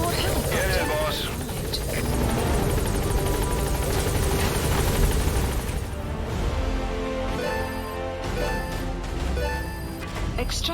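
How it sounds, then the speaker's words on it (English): Support helicopter in the video game Metal Gear Solid V: The Phantom Pain, a loud, steady rotor thump and engine whine throughout, with voices and game music mixed in over it. "Support helicopter."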